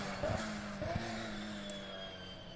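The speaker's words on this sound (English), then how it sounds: "a nice few samples of the downshift sound with the good bass that you get" A race car downshifts twice in quick succession, each with a sharp bassy blip, and the loud rear-mounted transmission keeps whining steadily afterward.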